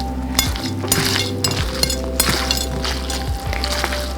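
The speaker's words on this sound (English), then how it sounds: "So now I'm going to just give it a very good mix." Fermented celery root being stirred with raw honey in a glass jar, with repeated clinks of a utensil against the glass over a steady low hum, close by and with no talking.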